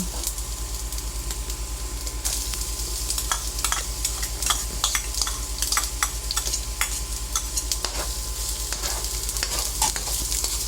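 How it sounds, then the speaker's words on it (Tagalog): Ginger, onion and garlic sauté in a pan for squash and long-bean coconut stew, with constant sizzling broken by frequent clicking scrapes of a spatula stirring, close and busy, alongside a low steady hum. "Ayan, gisa lang po natin ng maigi. Nilagay na po natin ang sibuyas, isunod naman po natin ang bawang."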